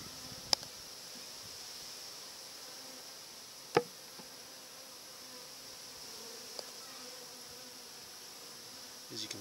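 Honey bees buzz faintly and steadily at the small entrance of a mini mating nucleus beehive, with a few sharp clicks and taps standing out from the low hum.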